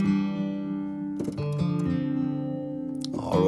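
Acoustic guitar runs through the FL Studio Vintage Phaser plugin, a few plucked notes and chords swirling with a soft sweeping phase, fairly quiet and without any voice.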